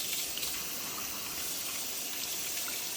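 Poblano peppers rinsed under a running kitchen tap, a steady close gush of water splashing continuously with no talking.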